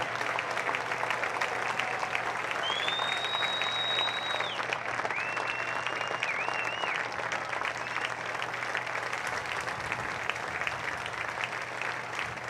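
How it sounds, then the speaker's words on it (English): Crowd applause at Valley Stadium during a varsity football game between Johnston and WDM Valley: broad, sustained clapping and cheering from a large stadium crowd at a steady level, with a thin whistle-like tone drifting over it midway. "And now about another nice round of applause and welcome back to Valley Stadium"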